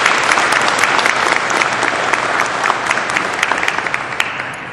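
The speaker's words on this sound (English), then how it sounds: "Please join me in a round of applause for the friends and family members of the graduates." Dense, sustained applause from a large crowd at an Army aviation graduation ceremony at Fort Rucker, Alabama, steady and loud throughout before slowly tapering, with no speech over it.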